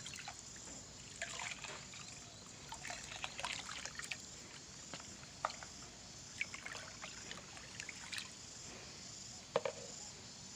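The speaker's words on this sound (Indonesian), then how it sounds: "Kemudian kita aduk merata dengan menggunakan gayung." Ingredients being stirred into 5 liters of water with a hand scoop: faint, close sloshing, trickling and scattered small splashes, irregular and quiet against a soft background.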